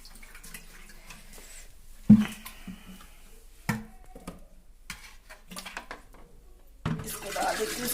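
Water pours and splashes from a clay pot into other pots, with irregular sloshes, knocks and trickles in a quiet village setting, loud splashes coming in short bursts.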